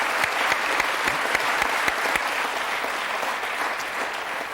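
Audience applause for a musician at a French music programme on English rock, a dense, even wash of many hands clapping that fades slightly toward the end.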